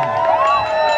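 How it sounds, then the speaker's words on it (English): A crowd cheers and claps for a dog at a dog festival in Kenya, a steady, loud burst of applause with whoops and voices throughout the second. "A round of applause, what a beautiful dog."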